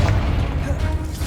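Confringo blasting curse blast in the Hogwarts Legacy video game: a short, dense, booming explosion with a thick low rumble, loud and continuous across the brief moment.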